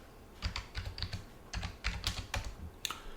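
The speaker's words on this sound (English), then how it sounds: "So I'm going to type in backups." Typing on a computer keyboard, a close, quick run of crisp key clicks in small irregular bursts, with no talk over it.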